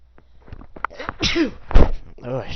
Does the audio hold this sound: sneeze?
yes